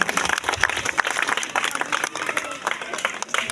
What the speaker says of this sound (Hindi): और बच्चों के लिए थोड़ा जोरदार तालियां आ जाए